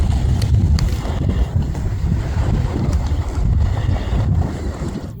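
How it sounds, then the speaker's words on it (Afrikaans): Sea at the coast near Smygehuk, a deep continuous roar of waves mixed with heavy wind buffeting the microphone, steady and loud throughout with no talk. "En ek kan die see hoor."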